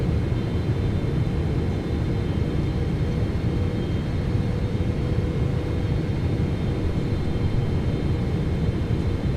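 Boeing 777-300ER airliner jet engines on arrival in Microsoft Flight Simulator 2024, a steady, loud broadband roar with low rumble that holds even throughout, no talking.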